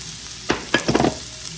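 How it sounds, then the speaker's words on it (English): Tater tots tumble into a hot pan with raw peppers and onions, giving a few short sizzling splashes and stirring clatters over a soft background frying hiss. "I'm going to add in tater tots."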